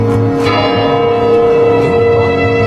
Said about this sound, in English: The bell's sound rang out melodiously, echoing through the entire palace.